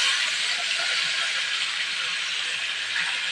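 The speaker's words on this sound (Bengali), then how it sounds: "উচ্ছিটা ভাজা হয়ে গেছে, এবার ওই তেলে আলুটা ভেজে নেব।" Potatoes frying in hot oil in a home kitchen pan, a steady, loud broadband hiss and sizzle that holds evenly from start to finish with no voices.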